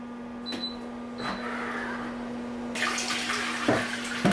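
An automatic smart toilet in a condo bathroom runs water: a steady, moderately loud rush of flowing water begins partway through and continues, with a faint hum and a few small clicks before it.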